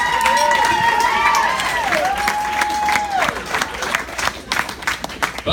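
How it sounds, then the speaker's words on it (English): Applause and cheering from wedding guests after a best man's toast to the bride, loud clapping mixed with whoops and sung or shouted voices, breaking into scattered claps toward the end. "Can I get a round of applause for the coolest wife ever?"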